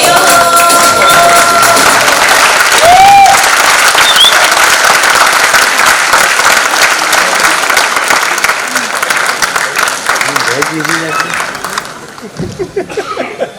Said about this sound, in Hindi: एक बार जोरदार तालियों से बता दीजिए आज का नाटक कैसा लगा।